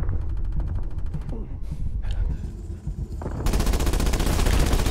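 Loud, rapid automatic gunfire in Black Ops Cold War, close bursts rattling in fast repetition, breaking off briefly midway and then resuming as a heavy, continuous barrage.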